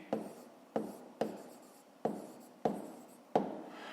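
Pen strokes on paper during a fifth-grade maths exercise: six short, distinct scratches spaced about half a second apart, each fading quickly, quiet and close with no talk.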